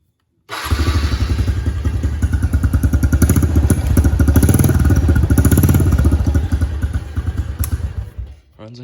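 A Yamaha TTR 125 dirt bike fitted with a new battery starts abruptly and runs loud and close for about eight seconds, a rapid thumping single-cylinder beat with some clatter before it cuts off.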